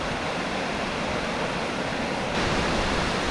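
A waterfall in the Lake District, heard from up on a steep path above it, gives a steady, dense rushing roar that fills the air evenly and grows slightly louder partway through, with no voices present.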